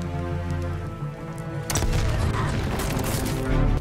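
Grenade explosion in Black Ops Cold War on the Moscow map: steady game ambience gives way to a sudden loud broadband burst, followed by a sustained rumbling, crackling aftermath.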